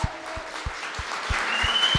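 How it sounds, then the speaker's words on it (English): Hackathon participants applaud, a crowd's clapping heard as a steady wash, with regular low thumps recurring roughly every third of a second beneath it. "give yourself a really big applause for making it to Sunday"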